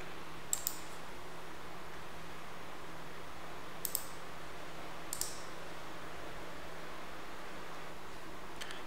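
Faint, sparse computer mouse clicks, single and double, spaced several seconds apart over a quiet steady background hiss, with no talking.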